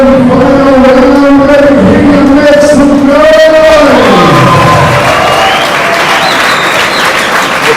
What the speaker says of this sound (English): Crowd is excited.